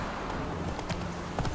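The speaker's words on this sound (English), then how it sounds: "Let's call my horse." Faint horse hooves clip-clop in The Witcher 3 as a summoned horse trots up, a few soft rhythmic hoofbeats over a low, steady ambient bed.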